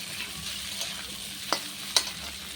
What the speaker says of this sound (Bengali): আলুগুলো একটু ভেজে নেব। আলু পেঁয়াজ একটু একসঙ্গে এখন হয়ে যাবে।